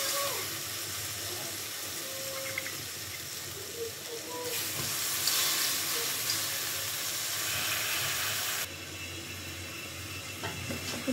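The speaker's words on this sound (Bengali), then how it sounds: "এখন দিয়ে দিব সেই আগে থেকে ধুয়ে রাখা চাল, ডাল" Pre-washed rice and lentils go into a hot pot of sizzling spiced masala for khichuri, setting off a loud sustained hiss and sizzle that swells midway and then eases, with faint stirring noises and no talk.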